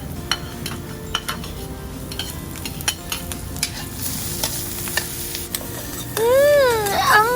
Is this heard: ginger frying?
yes